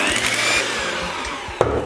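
A small electric hand mixer motor whirs steadily up close, with brief rattling and a sharp knock near the end.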